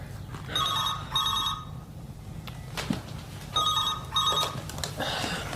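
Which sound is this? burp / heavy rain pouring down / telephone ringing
telephone ringing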